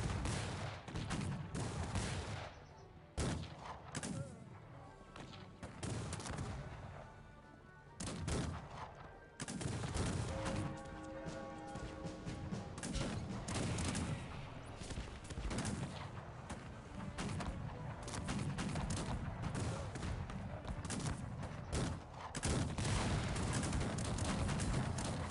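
Artillery cannons and gunfire boom and crackle in a Cossacks 3 battle, a long, dense barrage of repeated loud shots and blasts with short lulls, continuous and close.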